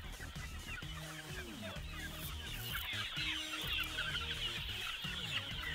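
Chicks and grown chickens of a local breed cluck and peep steadily, with repeated short calls rising over a constant background of outdoor noise and insects; no talking.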